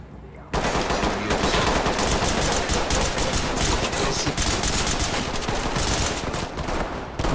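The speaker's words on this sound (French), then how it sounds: "Ok, énormément de tirs nourris" Heavy, continuous automatic gunfire in the tactical shooter Ready or Not inside a warehouse, a loud unbroken barrage of rapid shots lasting the whole stretch.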